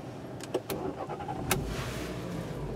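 A Renault Duster 2.0 16V Dynamique 2017 started with a conventional key: a brief cranking burst, then the engine catching and settling into a steady idle.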